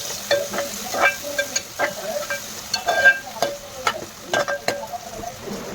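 A chopped onion and tomato mixture fries in a pan for crab curry, giving a steady sizzle punctuated by frequent rhythmic clicks and scrapes of a stirring spoon, close and fairly loud.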